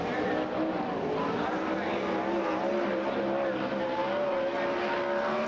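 USAC Silver Crown race cars roaring around the Springfield Mile dirt oval, a steady loud engine drone with rising and falling pitch as the cars pass, continuous throughout with no talk.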